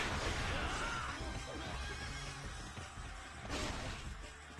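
A horse neighs in the Dynasty Warriors 3 video game, a whinny standing out over a dense, constant wash of battle noise and clatter that stays loud throughout.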